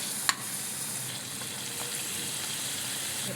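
Chopped garlic and chilli flakes frying in oil in a pan give a steady, close sizzle throughout, opened by one sharp clink of a utensil against the pan, with no talking.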